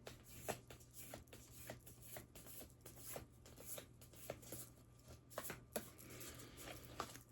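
Large oracle cards being shuffled by hand in a quiet room, a soft, close series of rhythmic riffling and sliding taps repeating steadily throughout.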